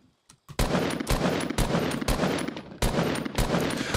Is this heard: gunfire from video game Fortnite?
yes